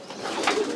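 Racing homing pigeons kept for long-distance homer races give a soft, low cooing that sounds fairly close but quiet in a brief moment with no talk.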